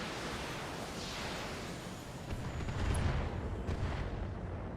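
Mortar fire pounds turrets in the BattleTech video game, a dense rumbling wash of explosive noise with a heavier low thump swelling near the middle, no talk over it.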